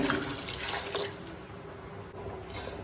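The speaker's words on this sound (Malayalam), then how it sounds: "രണ്ട് ഗ്ലാസ് അരിക്ക് നാല് ഗ്ലാസ് വെള്ളമാണ് നമ്മൾ ഒഴിക്കുന്നത്" Water poured into a pot of rice for vegetable pulao, a steady soft splashing stream that runs throughout at moderate level with no voices.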